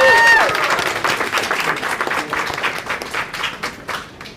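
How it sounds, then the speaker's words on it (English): Crowd applause at a live event in Philadelphia, steady clapping through the whole moment that slowly thins out, with a brief voice at the very start. "Give yourself a round of applause for being here."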